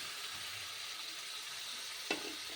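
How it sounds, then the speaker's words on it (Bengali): Spiced oil sizzles steadily in a wok as fried cauliflower and potato go in, with a soft hiss throughout and a brief sharp clink near the end. "এই অবস্থাতে আমি ভেজে রাখা ফুলকপি আলুটা দিয়ে দিচ্ছি"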